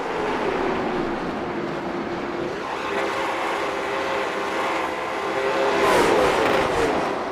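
Race cars in a night Thanksgiving race at Southern National in iRacing, wearing Christmas wraps, drone steadily in a continuous engine roar, swelling louder near the end as a pack passes close.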